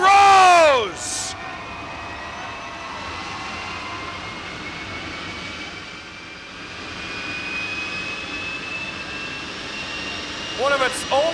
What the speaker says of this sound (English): The green Mamba Jet Car is down on the straightaway, and they're starting to fire it up.